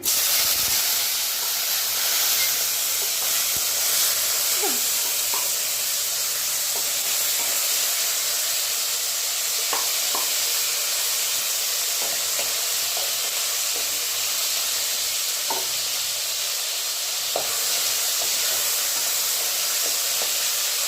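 Steady hissing sizzle of chopped tomatoes frying in a pan, with occasional faint clinks and crackles, continuous throughout and no talking.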